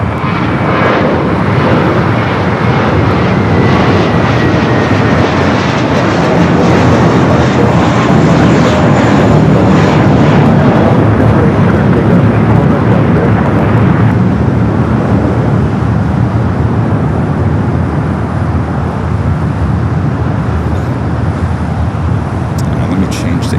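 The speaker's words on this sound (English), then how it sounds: "an A321 now rolling down to 25 right" An Airbus A321 airliner rolls down runway 25 right at Los Angeles airport, its jet engines a loud, continuous roar that builds and holds steady throughout.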